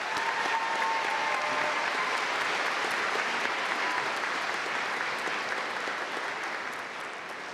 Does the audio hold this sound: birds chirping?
no